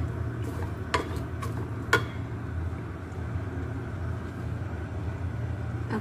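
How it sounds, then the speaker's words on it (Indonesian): Soup with soup seasoning and curry spice is stirred in a pot, a steady low hum underneath with a couple of faint, brief scraping clicks near the start. "Sekarang aku aduk-aduk."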